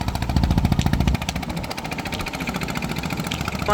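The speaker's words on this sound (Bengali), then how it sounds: "আর নদীর পার না, নৌকার শব্দ, বাতাসের শব্দ" A low, throbbing boat engine drones steadily nearby on a river, its rhythmic pulse heavier at first, then settling into an even chugging hum, with wind.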